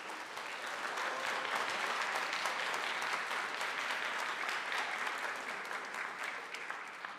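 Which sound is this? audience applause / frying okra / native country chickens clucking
audience applause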